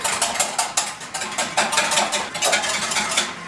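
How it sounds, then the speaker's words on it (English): Rapid rhythmic clinking of a whisk beating against a bowl, brisk and continuous at close range, no talking. "we're just going to go ahead and whisk this."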